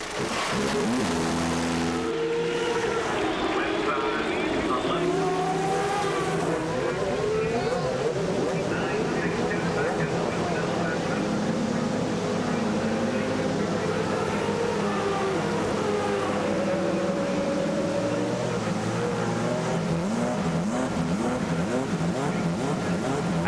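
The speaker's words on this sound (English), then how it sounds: "With the command having issued forth, 19 Ford Cosworth engines are brought to life." Nineteen Ford Cosworth CART race car engines fire up on the grid at the 2003 Molson Indy Vancouver, a loud layered roar of revving and blipping throttles building and sustaining throughout, with an announcer speaking over the din.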